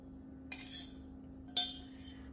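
A spoon scooping thick curd for a tandoori masala marinade, giving two faint, sharp clinks against a bowl over a low steady hum, with no talking.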